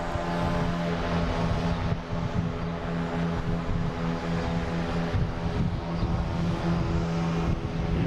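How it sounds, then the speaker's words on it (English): A Delta Embraer E175 regional jet taking off at Boston Logan heard as a steady, continuous engine roar with strong low hum, fairly near and unbroken for the whole stretch, with no voices. "Delta taking off. It's going to be heading to JFK in E175"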